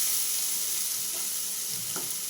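Vegetables, including ginger and potatoes, fry in a pan for sabudana pulao, giving a steady, close, continuous sizzle with no voices.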